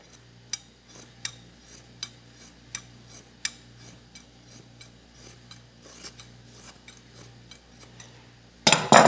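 Scissors snipping through Kevlar fabric used in fiberglass work, giving a steady series of short, crisp cuts roughly every half second over a low background hum, then a louder rustling burst at the end.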